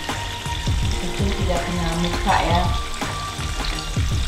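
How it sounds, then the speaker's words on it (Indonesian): Fish fries in hot oil that splatters and sizzles loudly and continuously up close, with crackling pops throughout and a brief spoken remark over the frying. "Goreng ikan ini sampai loncat-loncat minyaknya"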